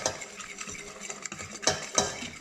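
A utensil mixes a paprika spice rub in a bowl, giving soft scraping stirs with a few sharper metallic clinks near the end, fairly quiet and close.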